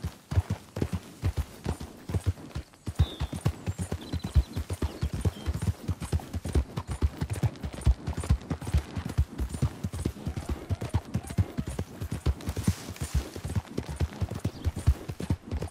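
Steady clip-clop of horse hooves in Red Dead Redemption 2, an even walking rhythm of close, distinct beats with a low hum beneath, continuing throughout without speech.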